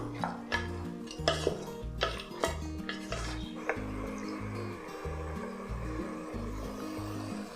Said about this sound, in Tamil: ஒரு 5 நிமிஷம் நல்லா வதக்கி விட்டுறலாம்.